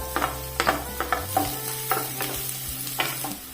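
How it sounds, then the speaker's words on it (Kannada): Chopped onion going into hot oil in a pan, with a steady sizzle and repeated sharp clinks and scrapes from stirring, close and fairly loud, no voices. "ಇಲ್ಲಿ ಎಣ್ಣೆ ಕಾಯ್ಲಿಕ್ಕೆ ಇಟ್ಟಿದ್ದೇನೆ ಈಗ ಅದಕ್ಕೆ ಕಟ್ ಮಾಡಿದ ಈರುಳ್ಳಿಯನ್ನು ಹಾಕಿಕೊಳ್ಳುವ"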